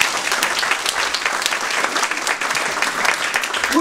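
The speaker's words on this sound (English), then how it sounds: "Give her a round of applause for a good question." A live stand-up show audience breaks into steady, dense applause, many hands clapping close and loud for the whole stretch with no voices over it.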